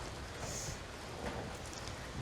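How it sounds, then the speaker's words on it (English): Wind-driven rain falls outdoors in a steady, dense hiss, coming in sideways during hand processing of birds in bad weather; no voices over it. "It's raining. Coming in sideways."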